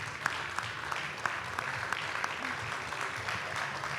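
A crowd at the Fête de l'Humanité, honouring the Palestinian people, applauds a speaker, with a steady wash of many hands and a few sharper individual claps standing out at moderate volume.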